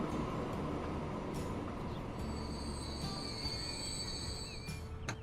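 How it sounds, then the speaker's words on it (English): A freight train rolls past on rails in Transport Fever 2, a steady near rumble of wagons with high wheel squeal and faint clatter running throughout, no talking. "Here comes our white food train."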